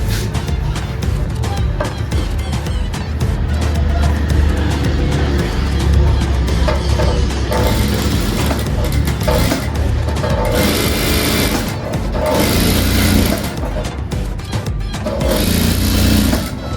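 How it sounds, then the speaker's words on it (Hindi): A sewing machine stitches a round-neck waistcoat, running in a loud, continuous rapid whirring chatter close by, with brief changes in pace and short bursts of brighter mechanical clatter, no talking. "ये हमारी फैशन की सिलाई लग रही है।"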